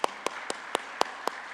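A church congregation claps in unison, making seven sharp, evenly spaced claps at a quick, steady beat over a quiet room.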